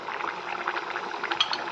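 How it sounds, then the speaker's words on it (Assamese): A pot of taro greens boils steadily, giving a close, continuous bubbling and gurgling of water with small pops, with no voices. "এয়া ইমান ধুনীয়াকৈ উতলিছে"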